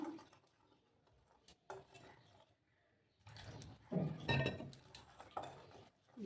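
A spoon scrapes and clinks inside a bowl as dry ingredients and water are mixed into a spiced batter for stuffed eggplant, in uneven close bursts with short quiet gaps.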